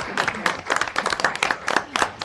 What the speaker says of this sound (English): Should we like clap?